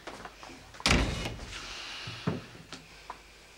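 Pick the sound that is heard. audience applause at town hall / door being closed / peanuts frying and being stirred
door being closed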